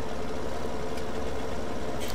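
Tractor engine in Farming Simulator 17 runs at a steady, even drone throughout, with a continuous low rumble and no talk over it.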